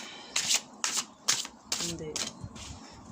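Riffle shuffling of a deck of cards, several short crisp bursts in an uneven rhythm, close and moderately loud, with a voice briefly audible in between.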